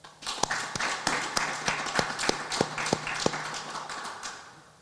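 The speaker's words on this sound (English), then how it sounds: "I think that needs a round of applause" Graduation crowd at a college ceremony applauding, with a string of sharp, crisp claps standing out at a quick, fairly even pace over a continuous wash of hands, moderately loud and close.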